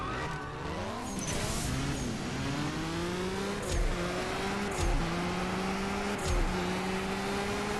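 Car in the CSR2 drag-racing game accelerating hard, engine pitch climbing through several gears with sharp shift breaks roughly every second and a half, loud and close with no talk.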